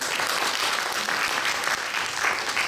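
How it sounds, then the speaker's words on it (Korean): An audience at a spring academic conference gives an award winner a round of applause: steady, full clapping from many hands, moderately loud and unbroken throughout. "다시 한번 박수 보내주십시오."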